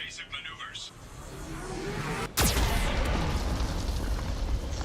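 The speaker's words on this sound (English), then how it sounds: "Warning, Geth cannon is locking on our location." Geth cannon fire and explosions in the video game Mass Effect 2: a sharp, loud blast hits midway, followed by a sustained low rumble, with game voices talking over it.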